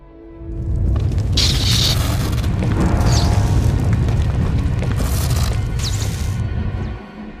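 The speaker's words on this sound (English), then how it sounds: "That's the 5th groundquake since the Hutt's takeover." Groundquake rumble in the video game Star Wars: The Old Republic, a loud, deep booming roar that swells in within a second, holds steady with crackling debris and hissing bursts, then fades out near the end.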